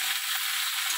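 Chorchori, a Bengali mixed vegetable dish, sizzles steadily in a pan, a close, continuous frying hiss with no talk.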